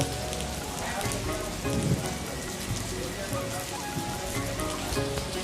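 Rain keeps falling over village streets where water has begun to run, a constant loud patter of drops on hard surfaces nearby, with no one talking.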